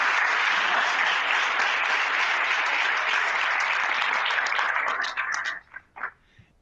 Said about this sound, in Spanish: Aplauso, Juanita.